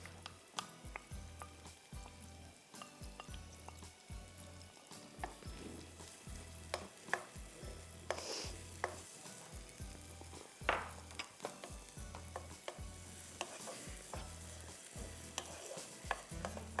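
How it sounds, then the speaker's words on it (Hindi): Chopped onion lightly sautéing in a pan for tarka daal, a soft, continuous sizzle with rhythmic stirring and scraping taps, fairly faint and without talk. "प्याज हल्की सी सौते करके"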